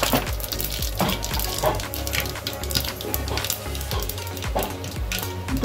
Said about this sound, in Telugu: ఆయిల్ వేసుకున్నాము. ఇప్పుడు ఆవాలు, కొద్దిగా మెంతులు ఖచ్చితంగా కొద్దిగా వేసుకోవాలండి